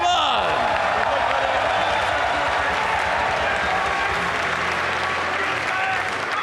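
A live crowd at a Deadman All Stars season finale cheers and applauds continuously, dense clapping with whoops throughout, loud and sustained for the whole stretch.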